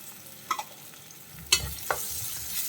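Chopped ginger and green chillies sautéing in a pan for a Kerala fish curry produce a low, steady sizzle, with a few sharp scrapes and taps of a spoon stirring, quiet and close.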